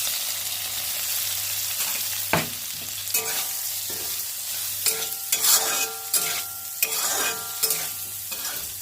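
Paneer frying in ghee with turmeric and salt crackles steadily while a spatula stirs and scrapes the pan in repeated, uneven strokes, close and clear.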